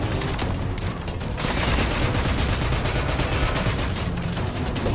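Gunfire in the video game Metal Gear Solid 5, heard as loud, continuous bursts of rapid automatic shots with booming low end that build into a dense barrage.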